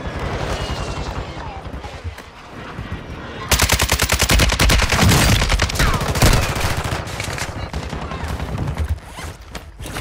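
Video game gunfire, sparse shots at first, then dense rapid automatic bursts that sound near and loud, with a voice talking over part of the firing.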